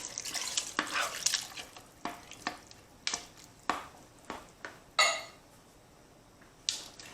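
Canned diced and stewed tomatoes going into a pot of gluten-free chili, a series of wet plops, splats and scraping stirs at close range, irregular bursts separated by brief pauses.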